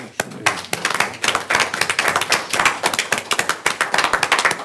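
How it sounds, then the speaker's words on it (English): Attendees at a county school board meeting give a round of applause for the CTE program, with close, sharp individual claps rising and falling in uneven bursts. "why don't we give a round of applause to all the accomplishments of the CTE program in Wilson County Schools"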